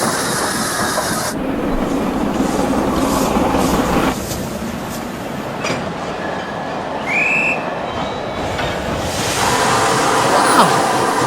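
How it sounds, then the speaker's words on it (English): An animated steam engine rolls along railway tracks in a cartoon, with a continuous rattling, rushing train sound and rhythmic chugging that swells and fades over several seconds. "she heard loud puffing"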